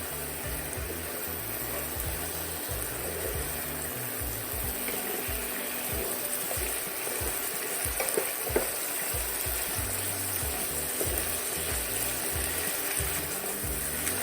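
Eggplant fries in a soy sauce, vinegar and brown sugar mixture as it is stirred, giving a steady, even sizzle that runs unbroken and moderately loud under a low, blocky background hum.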